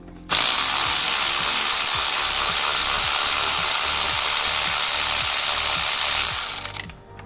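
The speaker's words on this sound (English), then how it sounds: "Let's get the electric ratchet." An electric ratchet spins bolts off the engine of a 2019 Audi A4 TFSI during spark plug replacement, a steady loud whirring with rapid clicking pulses for about six seconds before winding down.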